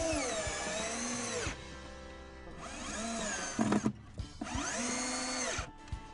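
A cordless power drill drives screws into a wooden flower box for a tiered herb garden, three long sustained whirring runs with brief pauses and a few knocks between them, close and loud with no talk.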